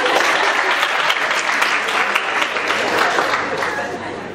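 Dense applause from a school-event audience, loud and steady throughout with a slight fade at the end, mixed with some crowd voices.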